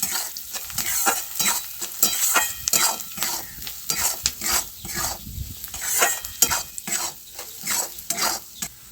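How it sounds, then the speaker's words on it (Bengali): Turmeric, cumin and chili powder frying in oil in a pan for egg chilli, loud sizzling under brisk, repeated stirring and scraping of a spoon against the pan, close and busy, without voices. "এক চামচ হলুদ এখানে এক চামচ জিরে গুঁড়ো আছে আর লঙ্কার গুঁড়ো আছে দিয়ে দেবো ভালো করে ভেজে নেব"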